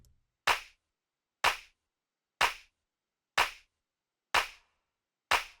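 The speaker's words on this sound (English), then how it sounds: "I've only got -27 going to the reverb for these claps" Six dry drum-machine clap samples from a deep house track, evenly spaced about a second apart, each a sharp crisp hit with a short, subtle reverb tail, alone with no voices.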